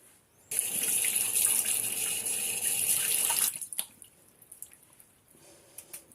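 Water from a tap runs steadily into a sink for about three seconds while a face is wetted, then cuts off, leaving faint drips and small splashes nearby.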